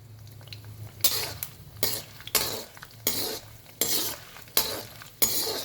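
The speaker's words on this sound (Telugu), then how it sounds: "శనగపప్పు 1 స్పూన్, ఇది బాగా ఫ్రై కావాలి." Chana dal frying in a pan for semiya, with a steady low sizzle broken by about seven loud, regular scraping stirs of a spoon against the pan, close and without talk.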